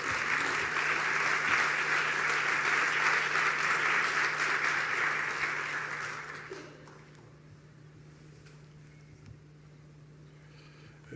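A large audience at the inaugural session of an education conference gives sustained welcoming applause, steady and dense for about six seconds before fading into the quiet of the hall.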